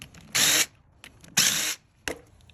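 A ratchet fitted with a 12mm socket backs out servo bolts on an 80/100 Series transfer case. It makes three short, sharp whirring bursts close by, with quiet gaps between them.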